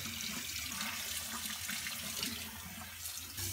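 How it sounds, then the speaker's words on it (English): Warm water runs steadily from a bathroom tap to rinse off a whiskey clay face mask, a constant broadband splashing hiss that stays close and even throughout with no talking. "we're going to wash this off with warm water."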